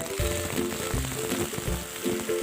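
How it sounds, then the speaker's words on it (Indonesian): Squid pieces fry briefly in hot oil over a low flame, giving a steady, dense sizzle with crackling pops throughout and no voices. "Setelah dipotong-potong, kita goreng sebentar saja, tidak sampai kering."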